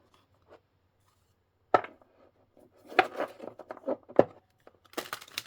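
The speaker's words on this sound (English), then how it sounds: "And I'm still shuffling." Close, crisp riffling of playing cards being shuffled, in several short bursts separated by brief pauses.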